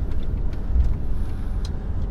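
Truck manoeuvring slowly to park in a truck park, a low, steady engine rumble with faint intermittent clicks and brief higher squeaks, fairly close and without speech.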